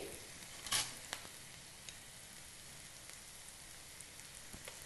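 Ginger garlic paste frying in a pan makes a faint, steady sizzle with a few soft pops and a scrape of stirring near the start.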